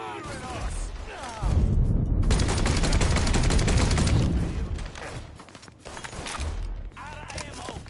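Rapid gunfire in a Mafia 3 firefight: dense bursts of automatic shots, loud and close, with a brief lull midway before the shooting picks back up.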